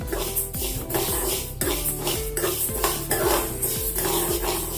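Whole mustard seeds roast in a pan for a mango pickle. Close metallic scraping and clinks from stirring repeat in a quick, steady rhythm, and a faint sizzle sits underneath.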